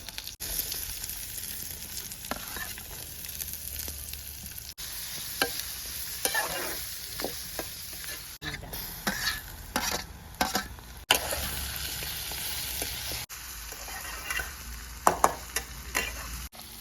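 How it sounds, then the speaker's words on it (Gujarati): Green chillies and onion fry and sizzle in a pan for upma, with steady crackling broken by repeated scraping stirs of a spoon against the pan, close and continuous, with no talk. "તો પહેલાં આપણે લીલા મરચાવા શેકાવા દઈશું લીલા મરચાં શેકાઈ જાય એટલે આપણે તેની અંદર નાખી દઈશું ડુંગળી"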